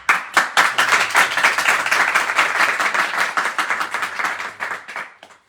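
A small group at a house program in Switzerland claps, starting with a few separate claps, swelling into steady overlapping clapping, then thinning to scattered claps that fade out; fairly close and loud, with no talking.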